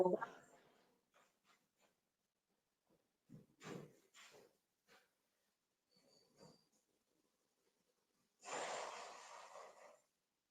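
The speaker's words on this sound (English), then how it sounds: "I have to go blow my nose." A person blows their nose in one loud, wet, breathy gust near the end, after scattered quiet sniffs and small movements.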